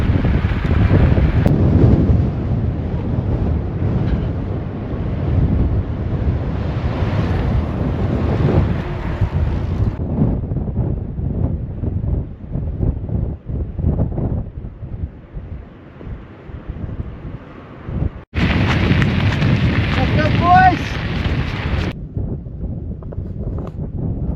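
Strong wind buffeting the microphone outdoors during the Munga endurance race, a loud continuous roar that dips briefly before a harsher gust near the end; no talk.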